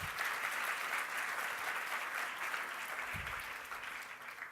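An audience applauds at a public forum event, steady dense clapping from many hands that gradually thins toward the end.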